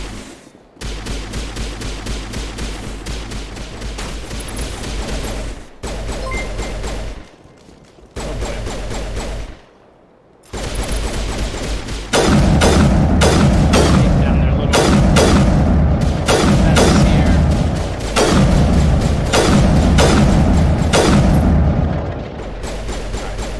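Sustained crossfire in the Mass Effect video game, with dense rapid gunfire bursts and booming turret shots echoing, stopping briefly and then returning louder and heavier.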